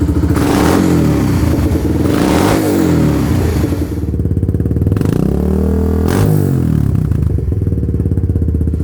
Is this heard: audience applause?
no